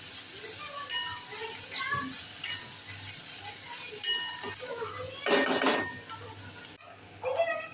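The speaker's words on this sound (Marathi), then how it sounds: "आता आपण बारीक चिरलेला कांदा घालूया छान गुलाबी होईपर्यंत परतून घेऊया" Finely chopped onion sautés in a pan with a steady low sizzle, while a spoon stirs and scrapes with clinks and one louder burst of frying partway through.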